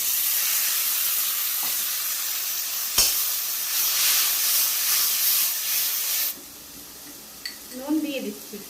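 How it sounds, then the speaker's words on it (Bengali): Taro leaves dropped into a hot pan with a hilsa fish head in a home kitchen, a loud steady steamy sizzle and hiss that ends abruptly, followed by quieter clinks and a voice speaking. "এই দেখো কচু শাকটা রেখেছিলাম,"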